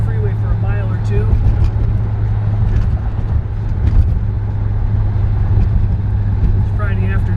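A 1956 Chevy Bel Air cruises on the freeway near Detroit, its steady low road and engine drone filling the cabin throughout while someone talks over it.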